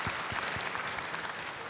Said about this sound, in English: des applaudissements pour son Excellence